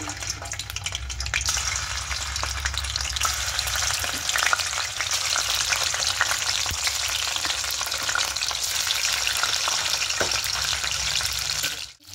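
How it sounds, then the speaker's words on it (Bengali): Maida dough fries in hot oil with a steady, loud sizzle that holds constant for about twelve seconds before cutting off abruptly, with no talking. "এবার এই তেলের মধ্যে ময়দাগুলোকে ভেজে নেব।"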